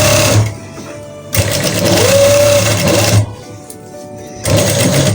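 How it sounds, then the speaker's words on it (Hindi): An electric sewing machine stitches down the middle of a trouser piece, its steady mechanical whir running loud and close in three bursts separated by short quiet pauses. "मैंने इसके मिड में इस तरह से सिलाई लगा लेनी है।"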